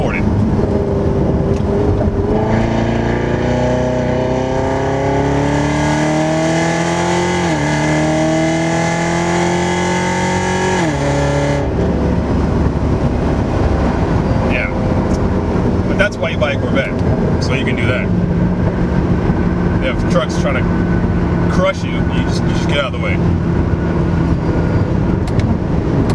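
A 2015 C7 Corvette with a Procharger supercharger accelerates hard, its engine note climbing steadily through upshifts before backing off, loud and close inside the cabin, followed by someone talking over the idling engine.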